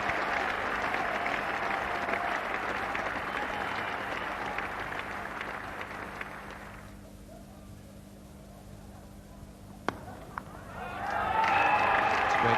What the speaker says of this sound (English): And the extra applause now for Gordon Greenwich